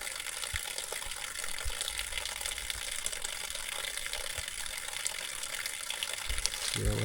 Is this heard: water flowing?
yes